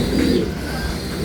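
Racing pigeons being fed coo softly in a short, steady, noisy stretch, with no voices.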